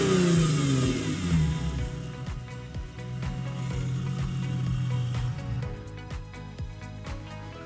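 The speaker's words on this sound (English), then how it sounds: "Hear that power steering pump? It ain't got the fluid in it." A previously totaled Infiniti G37 engine runs steadily after a fresh start, a low harmonic drone with a rising whine from a power steering pump that is short of fluid, close and continuous with no talking.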